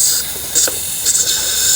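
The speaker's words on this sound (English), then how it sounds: "Now I'm going to spray a little bit of air down into the hole here." Compressed air sprayed down into a hole on a Kohler XT675 lawnmower engine, a steady close hiss with a few brief surges throughout.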